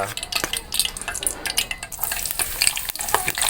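Garlic sautéing in a pan gives a soft, busy sizzle, broken by sharp clicks and scrapes of a utensil stirring against the metal, close and unaccompanied by talk.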